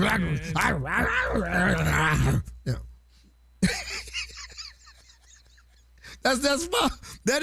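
A man imitates a dog with growls, whimpers and yips, loud and close, followed by quieter talk and laughter among several people in a studio.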